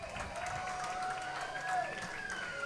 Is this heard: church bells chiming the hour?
no